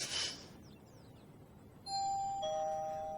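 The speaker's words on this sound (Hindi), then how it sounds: "इस घर में घंटी बजनी बंदी नहीं होती" A doorbell inside a house sounds, two bright electronic chime tones following a short noisy burst, the second tone ringing out and slowly decaying.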